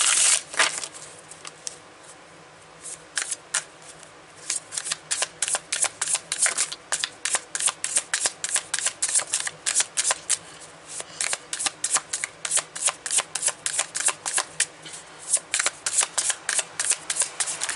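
Tarot cards being shuffled up close, a long run of quick crisp riffles and flutters in uneven bursts, with no voice over them.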